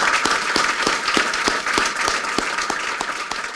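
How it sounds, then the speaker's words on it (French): An audience at a celebration for a team and its partners applauds steadily, with dense clapping and a few sharper individual claps throughout, close and fairly loud. "une belle main d'applaudissements pour toute l'équipe et tous les partenaires"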